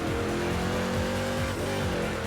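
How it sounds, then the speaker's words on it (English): Engine noise in the PS2 racing game Midnight Club 3: Dub Edition Remix, a loud continuous revving drone with shifting pitch, filling the short stretch without any talk. "This game was never known for its engine sounds."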